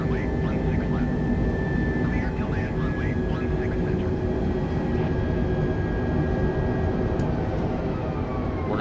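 Steady, dense aircraft engine roar builds continuously with the plane accelerating down the runway for takeoff in Microsoft Flight Simulator, a loud sustained drone with faint whistling tones layered on top.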